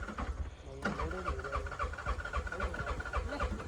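Auto rickshaw engine running on a farm, a steady low mechanical rumble that carries on under constant voices and background chatter.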